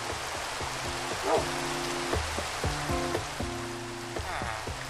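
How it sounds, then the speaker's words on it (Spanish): Steady Minecraft rain patters on a surface throughout, with a low rhythmic hum of background music beneath it. "He bajado un poco el sonido de la lluvia."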